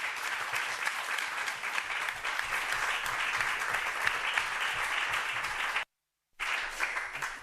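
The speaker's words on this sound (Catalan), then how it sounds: "Els aplaudim a tots." An audience at a book presentation breaks into sustained, dense applause for the presenters, loud and even, with a brief cut to silence before the clapping resumes.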